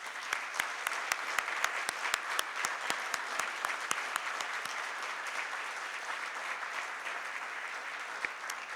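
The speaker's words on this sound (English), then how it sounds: "So may I request all of you to please give a big round of applause to Juan Pablo and his team." Audience applause fills a meeting hall after a presenter and his team finish, a dense steady clapping with some louder individual claps standing out, sustained at even volume throughout.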